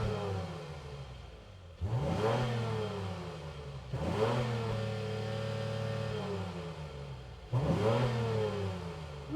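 Honda Passport TrailSport V6 engine revved three times in quick succession, each blip rising sharply in pitch, holding briefly, then falling back to idle, heard up close with no talk.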